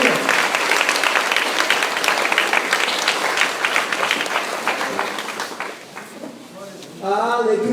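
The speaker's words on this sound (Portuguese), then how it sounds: "Você pode aplaudir ao Senhor" A church congregation claps and applauds at a worship service, a dense and steady wash of hands for several seconds that thins out near the end, with voices joining in under the applause.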